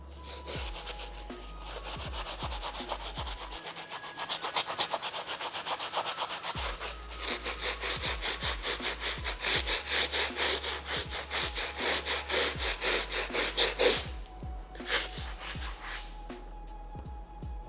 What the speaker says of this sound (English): We're going to use a stiff bristle, and we're going to hit the sole of the shoe.